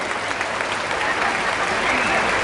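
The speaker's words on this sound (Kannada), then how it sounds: "ಚಪ್ಪಾಳೆ ಹೊಡೀರಿ ಜೋರಾಗಿ." A large crowd at a Hanuman Chalisa recitation gathering on the Maharaja College grounds breaks into loud, sustained, dense applause. It is close and even throughout, with no break.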